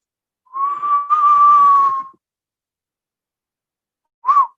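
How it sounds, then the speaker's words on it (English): A person whistles a single sustained, slightly wavering tone for about a second and a half, then after a pause adds one short final chirp, clear and close with no background. "I'm just whistling because I like to."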